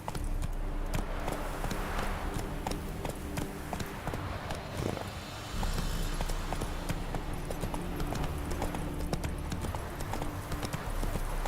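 Horse hooves galloping in the video game Witcher 3, a steady fast clip-clop rhythm running throughout over a constant bed of outdoor game ambience.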